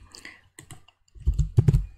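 Computer keys are pressed for an Alt+F11 shortcut: a few light clicks, then a louder cluster of close key presses.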